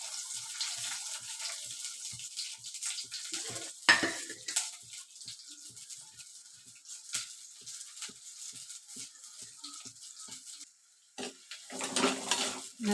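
Onions sauté in a clay pot for chicken gravy, a spatula scraping in regular strokes over a low sizzle, with a louder scrape early on and a brief lull before the stirring picks up again; no voices.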